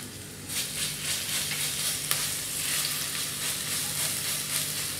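Ginger, garlic and green chili masala paste frying in a pan over a low flame for vada pav, a steady close sizzle with soft stirring scrapes and a sharp clink partway through, no talking.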